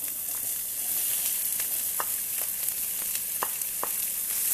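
Onion sautéing with crushed red peppers in a pan, a steady hiss of frying broken by a handful of sharp pops and spatula scrapes, close and alone with no talk.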